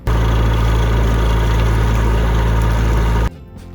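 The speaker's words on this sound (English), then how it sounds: "The engine starts, runs off its own gas." A sailboat's engine, just fitted with a new condenser, runs loud and steady at idle with a deep, even rumble and no one talking, then cuts out abruptly near the end, leaving near quiet.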